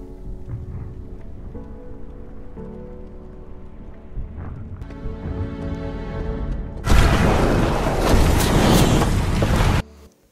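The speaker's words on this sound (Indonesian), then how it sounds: "Gemuruh disertai ledakan terjadi lagi hingga gunung Vesuvius memuntahkan batu pijar yang meluncur menghancurkan kota Pompeii" Mount Vesuvius erupts in the film Pompeii. A low tonal score rumbles and builds, then a sudden loud roaring blast of explosions and debris takes over for several seconds before cutting off abruptly.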